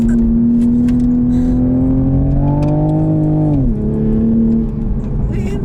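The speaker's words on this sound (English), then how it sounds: "this is his first time in a Supra in sport mode in second gear" A Toyota Supra A90 in sport mode pulls hard through second gear, its engine note climbing steadily in a loud, close cabin drone before easing off; faint voices come and go.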